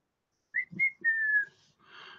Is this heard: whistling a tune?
yes